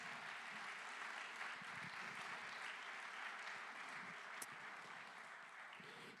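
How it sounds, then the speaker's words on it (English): A church audience gives a round of applause to a man named Harvey during a service, the clapping steady and dense from start to finish, fading slightly toward the end with little talk. "Give him a round of applause."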